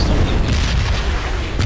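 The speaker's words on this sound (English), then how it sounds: "I'm under attack by bombs." Deep booming bomb explosions in the PUBG video game, a continuous heavy rumble with a couple of sharper bursts, loud and close, with no talking over it.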